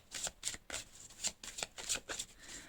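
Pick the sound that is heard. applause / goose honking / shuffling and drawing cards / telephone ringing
shuffling and drawing cards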